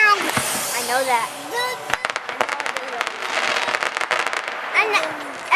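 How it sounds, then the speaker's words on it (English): Festival fireworks popping and crackling in rapid firecracker-like bursts, loud and close, with children and adults talking over the start of the barrage. "And there's some fireworks in Boston too."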